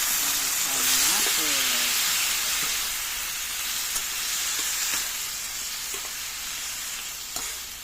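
Tomatoes sautéing with onion and chili in a pan, a loud steady hiss and sizzle with a few faint clicks of stirring, and a brief voice-like tone near the start.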